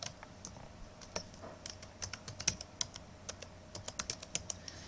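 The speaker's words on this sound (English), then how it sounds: "I'm going to type mine in." Typing on a computer keyboard to enter a school Google email address, a close, irregular run of crisp key clicks with brief pauses, no talking.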